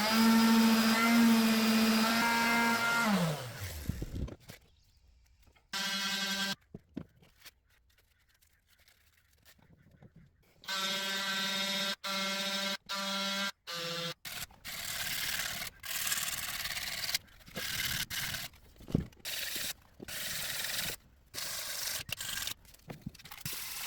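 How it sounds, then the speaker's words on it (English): A power sanding tool works the edges of stainless steel boat railing bracket plates, whining and grinding in repeated bursts that start and stop abruptly, with a few silent gaps between passes. "now I'm just going to sand around the perimeter just to get a"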